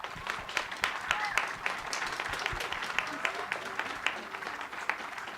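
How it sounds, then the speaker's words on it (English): Scattered applause from a modest crowd at an outdoor community park concert, with individual claps standing out sharply against thinner clapping and some quiet chatter underneath. "One more quick round of applause."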